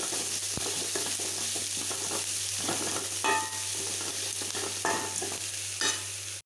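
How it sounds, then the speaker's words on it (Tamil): Onions sautéing in a pan for poori masala, a steady close sizzle of frying broken by scraping stirs of a spoon against the pan, with no talking. "இப்போ இதோட வெங்காயத்தை சேர்த்துக்கலாம். நல்லா ஒரு வதக்கிக்கலாங்க."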